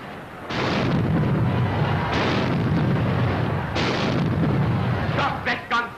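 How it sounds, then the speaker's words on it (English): Gunfire in a 1935 film: heavy booming bursts at intervals, loud and reverberant, with a few brief voices near the end. "Stop that gunfire!"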